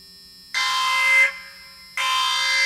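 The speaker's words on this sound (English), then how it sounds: "I said that's the fire alarm." A fire alarm shrieks in two loud, piercing electronic bursts, the first held about a second before cutting out, then a second blast starting after a short gap.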